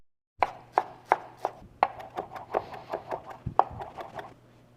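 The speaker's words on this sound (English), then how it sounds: "adding the chopped parsley to it. So we'll keep some for garnish, roll it up, chop it as best as possible" A knife chopping rolled-up parsley on a board in quick, even strikes, a dozen or so crisp knocks close by with no talking.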